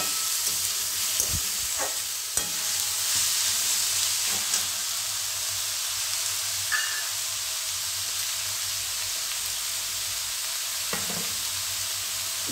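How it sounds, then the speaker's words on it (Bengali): Fresh shelled green peas go into vegetables frying in a pan, giving a steady close sizzle and hiss with occasional stirring scrapes and no talk. "এবার আমি টাটকা কড়াইশুঁটি দিয়ে দিচ্ছি"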